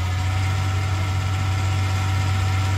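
Tractor engine idling in Farming Simulator 19, a steady, loud low-pitched hum with constant even vibration and no talking.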